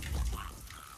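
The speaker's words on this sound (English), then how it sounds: "It's running water." A fountain runs in the video game Hitman 3, a steady close wash of splashing water that is brief and continuous.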